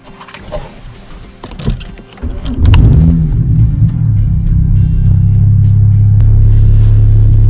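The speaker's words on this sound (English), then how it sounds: "I'm gonna run my car a few more miles around the block" A car fitted with a VT Stage 2 supercharger starts and settles into a loud, close, steady engine rumble, preceded by a few seconds of faint clicks and handling noises.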